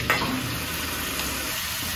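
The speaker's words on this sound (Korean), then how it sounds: "기름이 좀 달궈진 상태에서 고기를 좀 볶도록 할게요." Beef bulgogi frying in hot oil gives a steady, close sizzle. It runs evenly throughout, with a brief clatter of stirring at the start.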